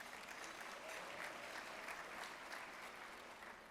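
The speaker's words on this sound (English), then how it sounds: "Please give them a round of applause." Conference audience applauding a keynote sponsor at a housing officers' opening session, an even wash of many hands clapping at a distance, fairly faint and sustained throughout.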